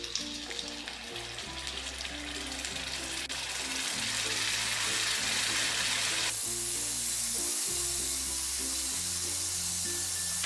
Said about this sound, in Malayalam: ഈ മാവ് ഒന്നും കൂടി ഒന്ന് കലക്കിയ ശേഷം ഇതിലേക്ക് ഓരോ സ്പൂൺ വീതം കോരി ഒഴിച്ചു കൊടുക്കാം.